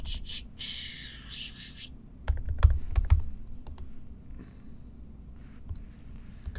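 Close, crisp clicks of a Mac computer keyboard, a quick burst of keystrokes in short clusters at a quiet desk with no talk.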